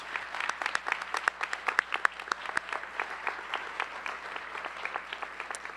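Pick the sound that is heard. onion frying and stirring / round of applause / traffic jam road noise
round of applause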